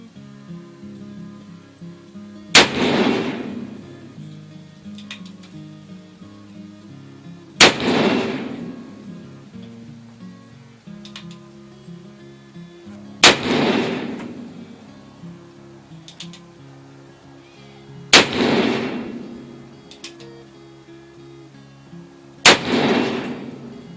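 Five loud booming shots from an 1858 Pietta black powder revolver, fired outdoors at a steady pace about five seconds apart, each a sharp blast with a rolling echo tail and quiet pauses between.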